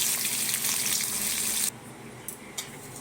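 Raw green banana fries in oil, a dense loud sizzle that cuts off abruptly partway through, followed by quieter hissing and a couple of short spatters.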